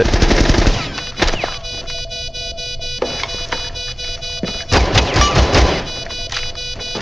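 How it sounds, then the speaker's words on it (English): Gunfire in the video game Rainbow Six Siege: a loud opening burst of automatic fire, then scattered sharp single shots and short volleys between quieter electronic game tones. "ಅವ್ರನ್ನ ಶೂಟ್ ಮಾಡೋಣ."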